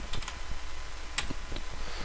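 Keys tapped on a computer keyboard, a short run of light, close clicks at an uneven pace over a low steady hum.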